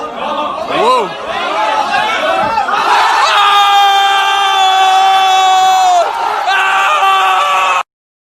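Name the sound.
crowd cheering in a played video clip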